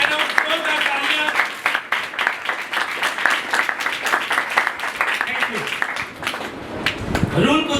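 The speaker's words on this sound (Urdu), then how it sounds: "آئے زوردار تالیاں بجائے اس بات کے" Church congregation breaking into loud applause during a sermon, sustained crowded clapping that carries on for several seconds while voices shout over it.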